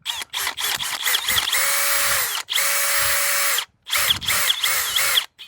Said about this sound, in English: I'm just going to push this in here while I drill